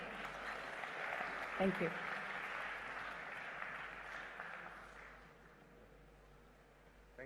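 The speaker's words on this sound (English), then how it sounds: "let us welcome him with a huge round of applause." Audience applause welcoming a speaker at the inaugural session of the BioAsia 2024 conference at HICC, a steady broad wash of clapping that fades toward the end, followed by a man briefly thanking the crowd.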